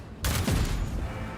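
Gunfire aimed at the player in the video game Rogue Trader: a sudden burst of shots that breaks in and then rattles on in a loud, rough volley.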